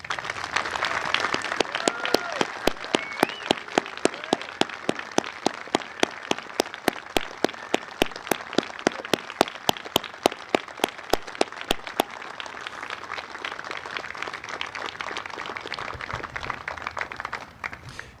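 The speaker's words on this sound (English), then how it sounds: "I would ask that you would please rise and join me in a round of applause for Major General retired Brett Daugherty." Audience applause at a military retirement ceremony for a retired major general, sustained steady clapping from a standing crowd with sharp individual claps standing out, holding steady for most of the span before thinning slightly toward the end.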